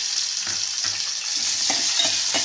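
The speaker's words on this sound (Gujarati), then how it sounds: "આપણે મરચાં નાખી દીધા છે. હવે આપણે એમાં ખારેક નાખીશું." Fresh dates join chillies frying in oil, producing a loud, steady sizzle broken by several rhythmic scraping stir strokes across the pan, with no voices.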